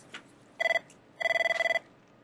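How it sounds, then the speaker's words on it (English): A telephone rings with electronic trilling bursts, one short ring followed by a longer one, loud and close in a quiet room. "That's my husband on the phone."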